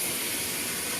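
A burger patty sizzles on a hot cooking surface, a steady dense hiss running loud and unbroken through the short moment with no voices.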